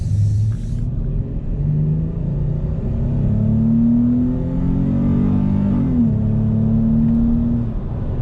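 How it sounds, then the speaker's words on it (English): A 2019 Dodge Charger GT accelerates hard, its engine note climbing steadily in a deep rumbling drone, briefly dipping at a gear change before rising again, heard from inside the car without talk. "I'm gonna go ahead and just punch it a little bit here"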